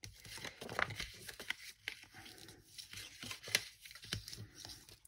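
Paper being folded and creased by hand for a book-shaped calendar, a quiet series of close crinkles, scrapes and soft snaps, no voices.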